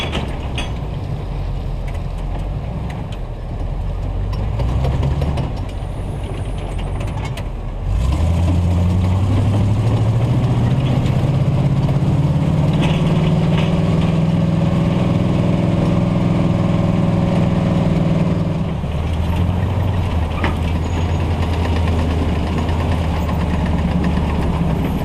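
A recovery truck's engine drives along a wooded off-road trail: a steady, close rumble that rises into a stronger, higher drone partway through, holds there for a while, then eases back. There is no speech.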